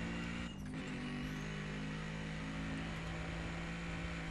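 A police car engine in the video game Battlefield Hardline drones steadily at close range, a continuous low hum with a brief rushing burst early on.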